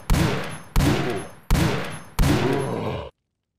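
Four loud, sharp gunshot blasts from a first-person shooter game, each followed by a decaying tail, evenly spaced about 0.7 seconds apart, then silence.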